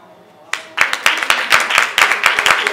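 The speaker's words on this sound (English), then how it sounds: "I think that deserves a really, really resounding round of applause." Audience applause breaks out suddenly after a near-silent moment: close, crisp individual claps in a fairly small crowd, continuing at an even pace.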